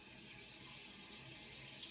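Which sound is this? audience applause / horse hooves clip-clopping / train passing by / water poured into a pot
water poured into a pot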